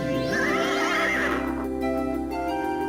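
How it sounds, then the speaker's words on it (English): A magic winged horse in the King's Quest II adventure game lets out a loud synthesized neigh, a whinny that wavers and fades, over steady game music. "Before you now stands a magnificent winged horse."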